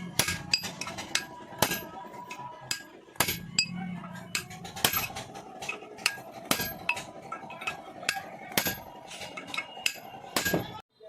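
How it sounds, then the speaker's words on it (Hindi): A hammer drives a chisel against an electric motor to knock out its wiring, giving sharp, metallic clinks in an irregular series of close, distinct strikes with brief pauses between them. "यहाँ से हथौड़ी और छेनी से इस तरह से वायरिंग खोलते हैं, जो कि काफ़ी आसानी से खुल जाता है"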